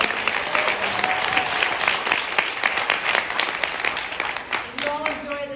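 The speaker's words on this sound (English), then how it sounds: "I want everyone to give her a round of applause." Steady applause from an audience at a Lunar New Year community celebration in Brooklyn, a dense wash of clapping lasting throughout, with faint voices mixed in near the end.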